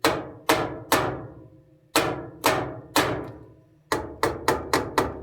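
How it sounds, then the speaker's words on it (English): Sharp blows from a Japanese hammer ringing out one at a time on metal while fixing an LG dryer, with decaying tails, a few spaced strikes followed by a quicker burst of five. "So I happen to have a weird tool called a Japanese hammer."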